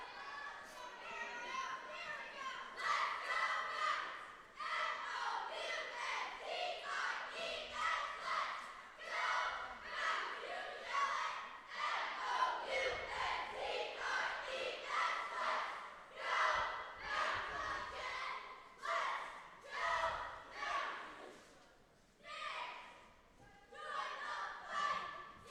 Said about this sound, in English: Looks like they're going to start with their cheer here.